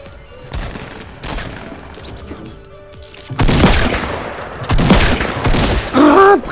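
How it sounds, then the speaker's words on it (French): Weapons in a shooter video game fire in loud, close bursts, sparse shots at first and then heavy sustained rapid fire in the second half, with game sound effects toward the end. "je lui ai tiré dans la gueule"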